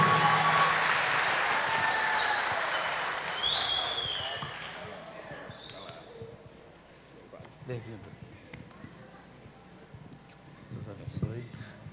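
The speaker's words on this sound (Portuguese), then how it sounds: "Uma salva de palmas pra ele." Applause greets a singer at a country music show, loudest at first and fading into scattered clapping and crowd murmur with someone talking over it, alongside occasional thumps.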